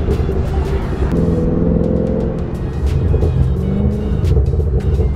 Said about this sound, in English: Those pops are insane.